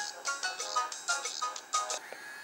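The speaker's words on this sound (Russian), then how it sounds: "знакомая мелодия со старых Самсунгов. Это воспроизводится на этом же динамике разговорном." An old Samsung phone melody plays from the earpiece speaker during a hidden test menu, a thin, bright series of short tonal notes in a quick rhythm, moderately loud and close, with no talking.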